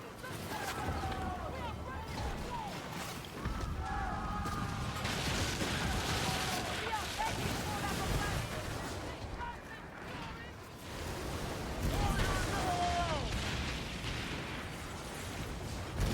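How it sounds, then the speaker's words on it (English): Explosions and gunfire from a pirate-themed video game come in bursts and pops amid mechanical clatter. They play under someone talking and reacting over the game audio. "the explosions and shit seem dope"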